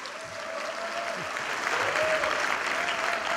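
Ceremony audience breaking into sustained applause, a broad steady roar of many hands clapping at moderate distance, with some faint voices underneath.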